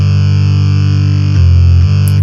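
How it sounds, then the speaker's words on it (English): A hardcore beat in FL Studio plays with a distortion effect switched on, heavy saturated bass and a gritty, buzzing drive sustaining loud and continuous, with brief shifts as the pattern changes. "So let's enable the distortion."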